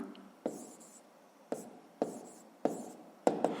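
Pen or pencil writing out a sixth-grade maths fraction solution on paper, a series of short scratchy strokes with sharp taps at stroke starts, close and fairly quiet, no talking.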